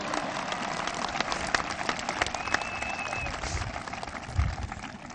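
A graduation audience applauds after a speech, with dense, continuous clapping from many hands that swells slightly and then holds steady across the hall.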